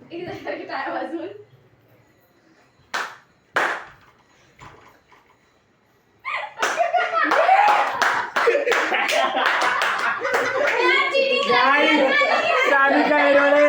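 Children playing a clapping game, with scattered claps early on, then a long stretch of rapid, continuous hand clapping mixed with excited kids' voices and chatter.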